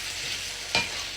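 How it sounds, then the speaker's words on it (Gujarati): Steady sizzle of cauliflower vegetable curry being tempered in hot oil, a continuous frying hiss with one brief louder crackle or stir partway through. "ફ્લાવર સુધાર્યું ને આવી રીતે શાક વઘારી દીધું છે"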